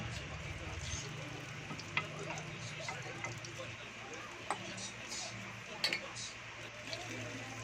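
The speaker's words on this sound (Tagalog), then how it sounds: "Then, ipiprito natin ito sa mainit na mantika hanggang sa maging golden brown." Banana blossom patties fry in hot oil with a steady, moderately loud sizzle and crackle, broken by a few sharp clinks of a utensil against the pan.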